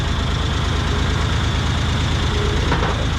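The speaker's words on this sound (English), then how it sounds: "At least it's a diesel, so it's got a little torque to go up on." A diesel vehicle driving up onto a wedge car-hauling trailer, a steady close low engine rumble with a throbbing idle-like pulse, loud and unbroken, no talking.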